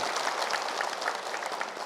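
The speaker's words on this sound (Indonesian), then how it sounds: "Boleh tepuk tangan." Studio audience applauding at an Islamic religious talk show, steady dense clapping filling the whole stretch at moderate loudness with no voices over it.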